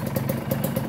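A Kawasaki Ninja RR idles with exhaust wrap around the header and half the expansion chamber, producing a muffled, steady pulsing exhaust note close by.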